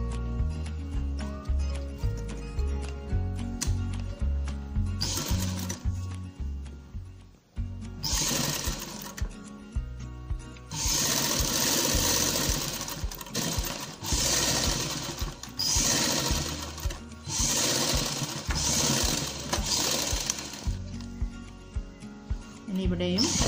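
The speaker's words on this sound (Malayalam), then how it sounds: "ഇനി ഈ ഭാഗം ഇവിടെ മടക്കി അടിച്ചു കൊടുക്കണം." Sewing machine stitching a kurti in rapid rattling bursts separated by short pauses, close and loud, with someone talking between runs.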